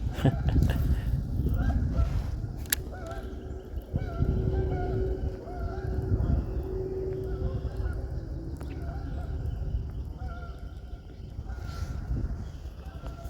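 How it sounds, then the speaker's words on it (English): Geese honk repeatedly outdoors at a moderate distance, scattered calls rising and falling over a noisy, breezy background. "What them crazy geese are doing? They keep coming back through here."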